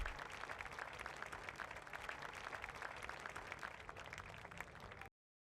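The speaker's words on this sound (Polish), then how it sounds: "biją mi teraz brawa" Crowd applause in the video game Football Life Simulator at a contract signing, steady clapping for about five seconds before cutting abruptly to silence.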